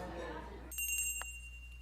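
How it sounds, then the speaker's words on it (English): A small bell on a cafe door jingles once, bright and close, as someone walks out, its metallic ring lingering briefly over a quiet room after a murmur of background noise fades. "The bell rings as I walk out of the door"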